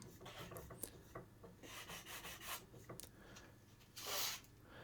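Rhythmic rasping of sandpaper rubbing on an ebony fretboard, short strokes repeated at close range, ending in a louder, brighter scrape.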